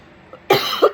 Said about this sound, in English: But it's the smell of the frangipanis that's making me cough.